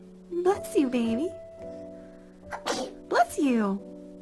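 A baby's small sneezes come in two brief bursts, each followed by an adult speaking gently close by.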